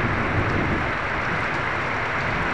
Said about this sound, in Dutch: Het regent heel hard, terwijl de weersvoorspelling anders was.